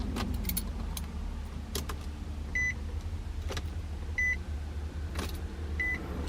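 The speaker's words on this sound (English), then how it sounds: "I'll turn the key and it doesn't start right" Keys jangle in the ignition of a 2005 Infiniti G35 sedan that has a no-crank fault, with three short chime beeps spaced apart and faint clicks, but no engine cranking; the sound is quiet and close.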